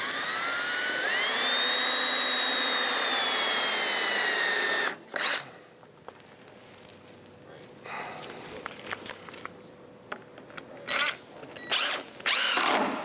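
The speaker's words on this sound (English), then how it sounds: "Give me that drill for just a second." A power drill drives into a wooden plank on a catboat under construction, whining loudly and steadily for about five seconds with the pitch shifting. Then come quieter short bursts, clanks and handling noises nearby.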